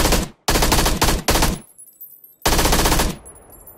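Automatic gunfire from the video game PUBG comes in loud, close bursts, three rapid volleys in quick succession, then a brief gap and another sustained burst, with no talking.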